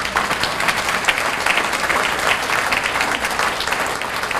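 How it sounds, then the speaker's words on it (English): Steady applause from an audience at the 2013 Arlington ISD State of the District address, dense continuous clapping filling the whole stretch without talk. "You can applaud if you want."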